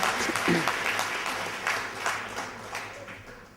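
An audience at a public meeting breaks into short, dense applause that rises quickly and then tapers off over a few seconds.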